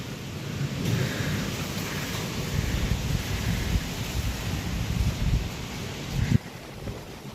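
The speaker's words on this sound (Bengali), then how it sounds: "জোরে ঝড় এলো।" A strong storm roars with steady gusting wind and low rumbling, a continuous broad wash with a sharp knock near the end, fairly loud and without voices.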